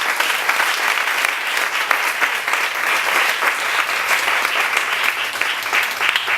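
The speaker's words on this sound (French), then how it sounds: "Give God a big hand." A church congregation claps for God in a steady burst of applause, dense and loud, lasting several seconds without letting up.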